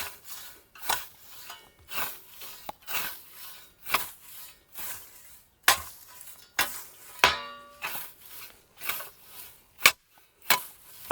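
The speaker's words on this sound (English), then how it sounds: "that sound was the tip hitting the stone" Scythe mowing grass on a stony slope, with steady rhythmic swishing strokes and a short sharp click where the blade tip strikes a stone, heard up close with no voice.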